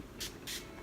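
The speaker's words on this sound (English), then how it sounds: "I like to set my face with this Urban Decay All Nighter setting spray." Urban Decay All Nighter setting spray misted onto a face in two short, close bursts of airy hiss with a brief gap between, then a third starting at the very end.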